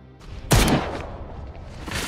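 A gunshot from an action film, where a young boy grabs a gun and fires, cracks out as one sharp burst, then fades into a softer second report moments later.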